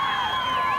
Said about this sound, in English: listen to the Brighton crowd, the band playing